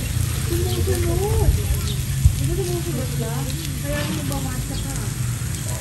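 Food sizzles and spatters steadily in a hot pan, loud and close, while someone talks over the frying.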